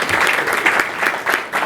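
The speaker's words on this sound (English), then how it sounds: "Could we please get a round of applause for Samreen?" Brief applause from an audience at an entrepreneur accelerator showcase: dense clapping, loud and close, in a few uneven surges over under two seconds.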